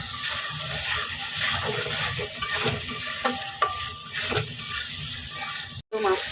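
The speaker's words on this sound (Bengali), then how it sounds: "মশলা কষানো হয়ে গেছে, এখন আমি মাছগুলো দিয়ে দিব।" Fish goes into a pan of frying spice paste, sizzling and crackling steadily while being stirred with soft scraping clinks, close and continuous, with a brief cut near the end.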